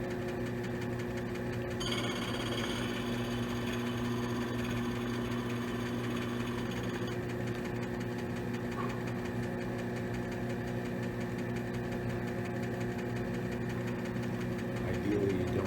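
Gemstone faceting machine cutting the crown of a stone, a steady low motor hum with a faint grinding buzz throughout, running alone without talk.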